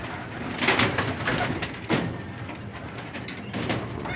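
Racing pigeons coo in a loft, soft repeated throaty coos from several birds over a steady rustling background, close by and continuous, with no speech.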